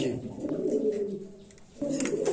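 Pigeons coo in low, throaty rolling phrases close by, one bout fading and another starting, at a bird seller's place with faint voices in the background.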